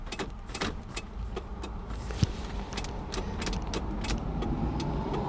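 A power window moves on a flood-damaged 1998 Mitsubishi Eclipse, a continuous motor whir mixed with scattered clicks and rattles that grows slightly louder toward the end.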